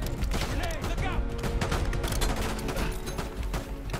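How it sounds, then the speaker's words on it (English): Dense gunfire in Call of Duty: rapid overlapping shots and bursts crackle continuously at close range, with a player talking over the shooting. "we are taking heavy fire right now"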